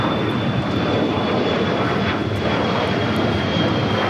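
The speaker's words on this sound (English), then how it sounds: "Have another heavy about to take off, American Airlines." American Airlines heavy jet taking off at LAX: a loud, continuous, broadband engine roar, steady and fairly close, with a thin high whine running through it and no voices.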